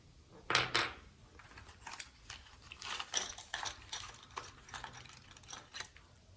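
High security lock keys jangle and clink close up as they are unpacked, a series of bright metallic rattles and taps of varying loudness.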